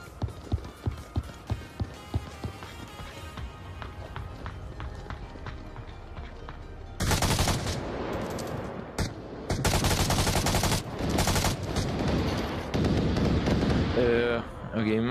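Gunfire in the Gun Game mode of a virtual reality shooter: a run of quick separate shots at first, then long dense bursts of automatic fire, loud and close, with footsteps and voices mixed in.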